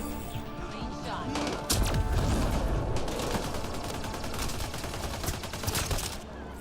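Gunfire in Mass Effect: Andromeda rings out as a rapid burst of sharp shots, followed by several more spaced cracks over continuous combat noise and background game sound.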